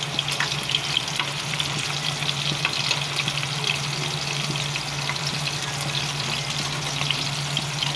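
Fish fritters frying in hot oil in a frying pan, a steady, dense sizzle and crackle that holds evenly throughout, close and fairly loud with no voices.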